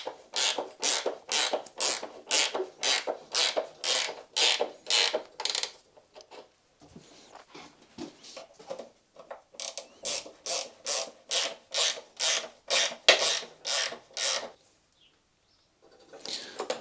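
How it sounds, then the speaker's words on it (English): Chain adjusters on a Yamaha FZ6 motorcycle's rear wheel being wound with a ratcheting tool, giving long runs of fast, even clicks, a brief pause of softer fiddling in the middle, then another steady click run, close and clear with no talk. "I'm just locking up my chain adjusters now."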